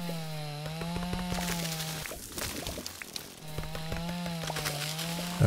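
Chainsaw in the video game Dinkum: a loud, close motor buzz runs steadily, breaks off for about a second mid-clip amid scattered clatter, then starts up again at full drone.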